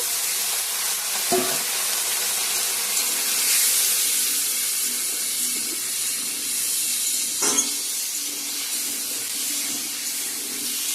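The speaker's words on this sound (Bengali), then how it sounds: "এখন সবজিগুলো দিয়ে ভেজে নিব একটু ভালো করে আলুটা ভাজবো" Vegetables and potatoes frying in a pan with tomato, a steady loud sizzle with a couple of stirring scrapes, close and continuous, no talk.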